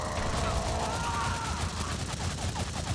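Rapid bursts of gunfire from a weapon in the video game Shank, dense and continuous across the stretch with game music and effects layered underneath.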